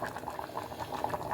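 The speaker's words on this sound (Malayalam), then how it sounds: "അങ്ങനെ നമ്മുടെ കുക്കർ മുതിരമുളക് നന്നായിട്ട് തിളച്ച് മറിയുന്നുണ്ടാവും" Horse gram curry bubbles vigorously inside a pressure cooker, giving a soft, continuous gurgle of popping bubbles heard up close with nothing else over it.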